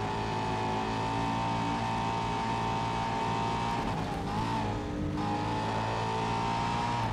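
Race car engine in the racing video game GRID, a loud sustained high-revving whine with shifting pitch and a brief dip partway through, constant and close with no speech.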